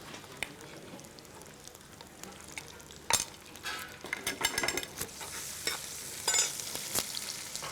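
Shallots, garlic and ginger paste frying and being stirred in a pan, a steady sizzle broken by scraping stirs and several louder clatters of a spoon against the pan; no one speaks.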